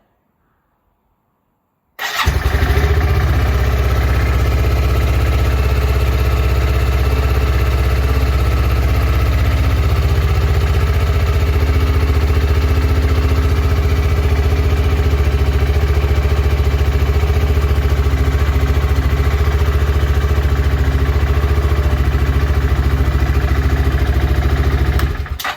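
A BSA Gold Star motorcycle engine starts up after a moment of silence, then idles steadily with a loud, even low rumble for the rest of the clip.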